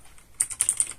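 A terminal command is typed on a computer keyboard, a quick run of about seven crisp, close key clicks after a short quiet pause.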